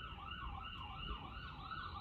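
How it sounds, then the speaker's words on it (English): An ambulance siren wails steadily as it passes by, its rising and falling tone cycling rapidly and evenly at moderate distance, with no voices over it. "And this ambulance that's passing by."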